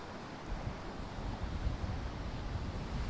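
Big ocean waves breaking on a sandy beach in strong wind, a steady loud wash of surf and gusting wind noise across the microphone, with no talk.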